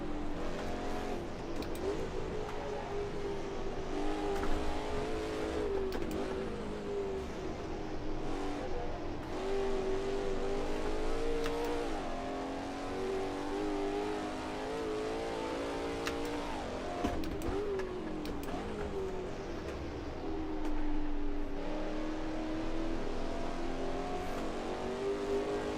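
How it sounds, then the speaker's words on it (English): A racing car engine in the Assetto Corsa video game whines continuously, its pitch climbing and dropping through gear changes, with an echoing, reverberant quality through a valley section. "you can hear the like reverb of the car through the valley sort of section"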